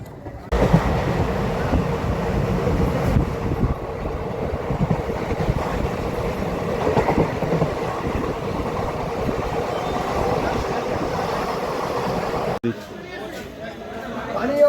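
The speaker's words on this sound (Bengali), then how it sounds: "চলো বন্ধুরা ট্রেন চলতে থাকুক গন্তব্যস্থলে" Steady rumble of a moving passenger train carriage from inside, near Serampore, India, with people chattering over it and a brief drop near the end.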